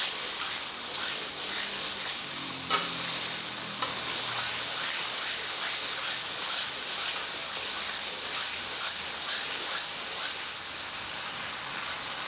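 Spices sautéing in a frying pan for Indonesian sambal teri, a continuous close sizzle and hiss with occasional scrapes from stirring and a couple of small knocks.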